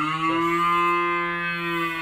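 A cow at a cattle sale gives one long, loud, close moo that holds steady for about two seconds, heard alone without any talking.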